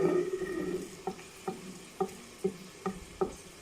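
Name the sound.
garlic and ginger added to hot oil, sizzling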